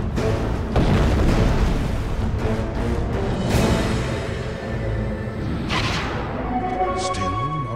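Dota 2 battle at a tower under attack, a dense stream of booming impacts, bursts and whooshing spell effects playing continuously and loudly, with a few sharper hits standing out.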